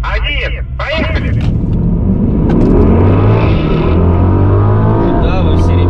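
A BMW X6M, Mercedes-AMG GLE 63 S and Lamborghini Urus launch from idle in a drag race, engines swelling into a loud, sustained rising roar up close, with a voice talking over the start.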